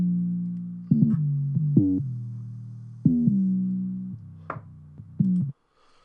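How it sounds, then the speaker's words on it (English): An 808 trap bass layer with its low end removed plays a sequence of sustained tonal notes with sharp attacks, each note gliding slightly and ringing before the next, ending abruptly into silence. "the second layer I've got is the same 808, but I've just cut out all the bass from it"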